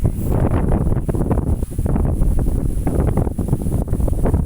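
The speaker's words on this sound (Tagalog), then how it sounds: "Sobrang lakas ng hangin din guys." Strong typhoon wind in Cavite roars and buffets the microphone continuously, a loud rumbling gusty rush with no voices.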